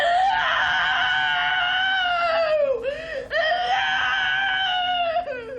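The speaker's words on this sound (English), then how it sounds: "primal therapists encourage their patients to release what they call blocked or buried energy. Usually, this is by screaming." Long, high-pitched wailing screams from people in a primal therapy session, sustained and loud, with one brief break before the screaming resumes at full force.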